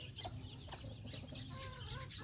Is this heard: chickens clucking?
yes